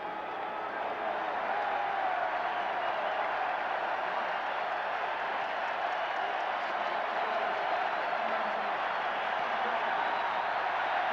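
Baseball crowd cheering in the upper deck of a stadium during a 1979 World Series game, a dense, steady roar of applause and shouting that stays loud throughout.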